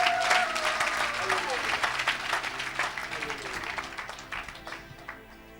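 Church congregation applauding during a worship service, a dense wash of clapping from many hands that gradually fades, with a voice speaking over it.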